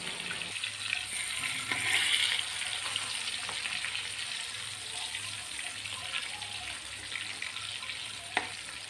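Big pieces of rohu fish frying in oil and being turned over, giving a continuous near sizzle with a few soft knocks, over a faint low hum.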